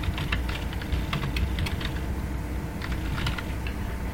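Fingers type Java code on a computer keyboard, giving quick irregular clusters of light key clicks over a quiet room hum, with no speech.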